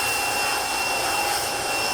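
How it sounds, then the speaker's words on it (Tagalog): A blower forcing water out of an air-conditioner condenser during cleaning, a loud, steady high-pitched whine and airy roar close by, unbroken throughout. "gumagamit ako ng blower para matanggal yung, yung tubig"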